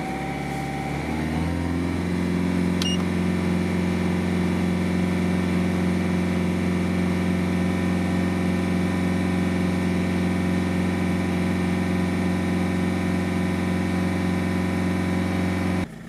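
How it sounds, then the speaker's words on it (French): A car engine is held steadily at about 2500 to 3000 rpm, a constant even drone after a short rise at the start, close by and with no talk. "il faut que je mette le régime moteur entre 2500 et 3000 tours minute pendant 10 secondes."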